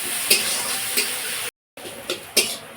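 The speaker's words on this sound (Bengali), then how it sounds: "পেঁয়াজটা একটু ব্রাউন কালার করে ভেজে নেব" Chopped onion and three green chillies sizzling in hot oil in a pan, a steady bright frying hiss with a few stirring scrapes, broken by a brief cut to silence midway.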